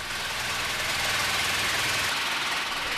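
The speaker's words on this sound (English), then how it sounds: "A Gameco machine is used for levelling, vibrating and finishing the concrete." A Gameco machine levels, vibrates and finishes freshly poured concrete on a post-tensioned slab, giving a steady, loud engine drone with a constant vibrating rumble and no break.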